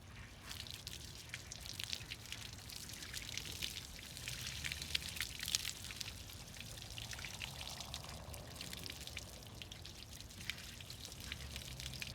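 Water poured from a bucket splashes and trickles steadily onto a Toyota Celica headlight for several seconds, a continuous pouring wash with some dripping, fairly close.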